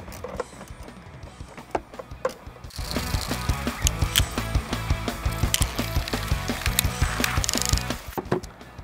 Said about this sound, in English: Then we take off the two 10mm bolts holding down the box